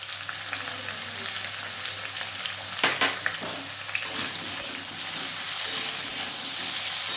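Papaya and potato pieces sauté with cumin and ginger paste, a steady sizzle of frying with a few sharp scrapes and clanks of a spoon against the pan midway, no talk.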